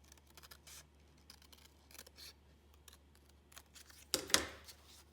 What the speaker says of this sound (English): So I'm going to cut that out very carefully.